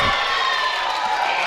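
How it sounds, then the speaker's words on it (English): Volleyball crowd at a DSU versus Westminster College match erupting after a hard spike, a loud, sustained wash of oohing and cheering voices filling the gym for the whole moment. "the crowd was even into that one, we got some oohs and ahs on that one"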